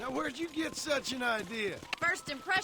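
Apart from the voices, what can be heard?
None of the usual background noises is heard.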